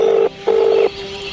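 Touch-tone phone keys dialing a number: two long steady beeps separated by a short gap, loud and close, followed by a fainter lingering tone with no voices.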